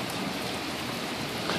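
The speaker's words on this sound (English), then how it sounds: "And it's pouring." Heavy rain pours outside in a dense, steady, loud hiss of drops drumming on surfaces, continuous throughout with no voices.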